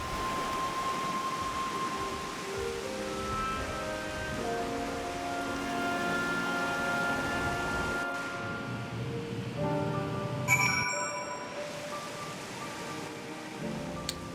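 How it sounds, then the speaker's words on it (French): Rain falls in Final Fantasy XIV as a steady, even hiss, mostly buried beneath sustained in-game music that stops briefly partway through, with a few chime-like tones near the end. "Pourrait s'arrêter de pleuvoir quand même."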